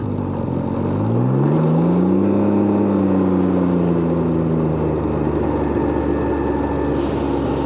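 A Can-Am Ryker's engine revs up sharply as its rear tire spins under traction control, the pitch climbing quickly and then easing back in a loud, continuous whine close by.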